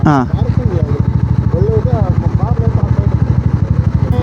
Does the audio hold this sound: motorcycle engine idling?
yes